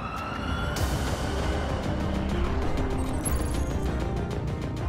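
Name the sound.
Lotus Evija electric hypercar prototype accelerating hard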